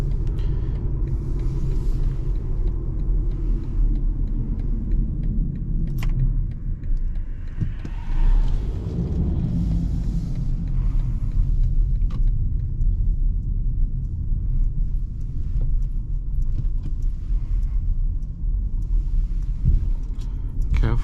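Car driving along an autumn road in the Swabian Alb, a steady low engine and tyre rumble throughout with a brief swell of acceleration midway, under occasional talk from the driver.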